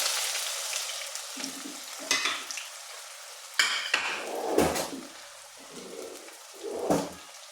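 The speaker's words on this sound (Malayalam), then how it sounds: "ഈ വെളുത്തുള്ളി മൂത്ത് വരുമ്പോഴേക്ക് നമ്മളെ ചേന ഇതിൻ്റെ കൂടെ മൂത്ത് വരും" Crushed garlic and ginger frying with yam pieces in hot oil for a pickle, a soft continuous sizzle punctuated by occasional scrapes and knocks of a spoon against the pan, no talking.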